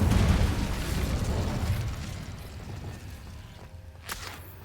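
An Incendio fire spell in Hogwarts Legacy erupts as a loud, rumbling whoosh of flame that gradually fades away, followed by a brief brighter flare near the end.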